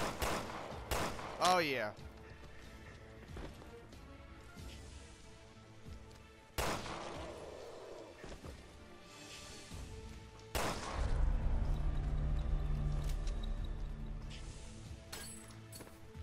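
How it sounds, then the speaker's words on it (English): Pistol shots ring out in Resident Evil Revelations 2 Raid mode: a few sharp separated cracks spread across the stretch, with game noise, a rumbling crash and a person talking briefly between them. "I think I can kill them with my pistol"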